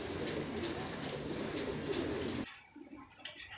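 Teddy breeder pigeons cooing in a loft in Faisalabad, a steady murmur of coos filling the first two and a half seconds before dropping to a few quieter calls.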